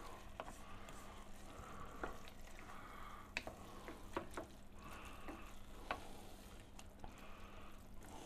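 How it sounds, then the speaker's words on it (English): Oyster dressing being stirred in a pot, a faint wet scraping and soft clinks at irregular moments over a low steady simmer, with no voices. "Give this a stir."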